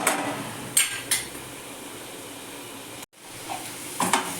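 Sliced potatoes sizzle steadily in a hot pan while being stirred, with a few sharp scraping clinks of a spatula against the pan and a brief cut near the end.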